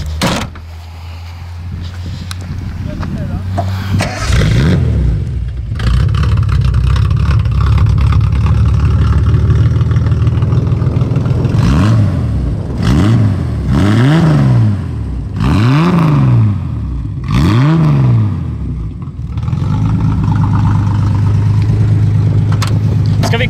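A Datsun 240Z engine idles with a low, loud rumble, then is blipped through a series of sharp revs that rise and fall, five or six quick bursts in a row before dropping back to idle.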